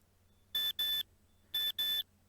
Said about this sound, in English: not just that terrible beeping, which is an awful sound